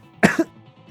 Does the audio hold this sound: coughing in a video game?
yes